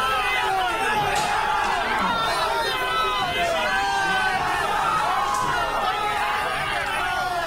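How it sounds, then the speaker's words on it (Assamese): Thousands of supporters celebrate an election victory in Sivasagar, a dense, continuous roar of cheering and mingled voices held steady and loud throughout, with no single speaker standing out. "তেওঁৰ সমৰ্থনত ওলাই আহে হাজাৰ হাজাৰ লোক শিবসাগৰত, আৰু বিজয় উল্লাস তেওঁলোকে উদযাপন কৰে।"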